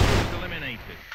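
Gunshot from a rifle in a first-person shooter match, a sharp burst at the start followed by a decaying rumble, heard amid game noise with a commentator talking over it.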